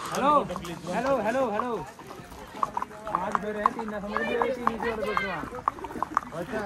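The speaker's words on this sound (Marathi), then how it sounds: "भाई भाई भाई भाई घोडे रेसिंग" Horse hooves clip-clopping during a ride in cold, snowy Kufri near Shimla, quick rhythmic clops at close range, mostly buried under excited, overlapping talking throughout.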